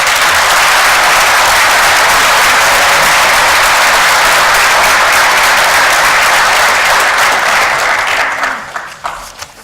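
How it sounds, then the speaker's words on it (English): Applause from a police commission meeting audience honouring officers' promotions, a full sustained round of clapping that stays strong before tapering off into scattered claps at the end. "Let's give them a round of applause."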